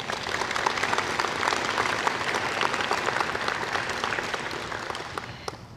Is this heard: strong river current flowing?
no